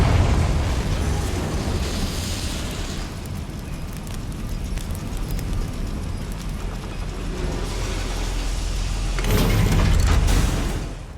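Confringo explosion spell in the video game Hogwarts Legacy: a loud, sustained roaring blast with rumbling debris that swells again near the end, heard alone without talk.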